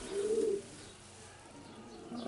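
A racing pigeon hen gives a soft, close coo, then a short pause and the start of another low murmur in a quiet loft.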